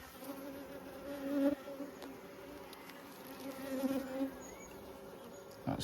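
A large, productive and aggressive honeybee colony drones steadily while its hives are split into nucs, with individual bees buzzing close past now and then, swelling and fading.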